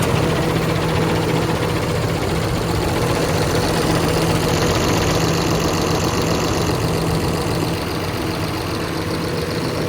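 A repaired engine, its rocker cover seal just fixed, runs at a steady idle, loud and close with a constant low hum and faint knocking texture throughout, no talk.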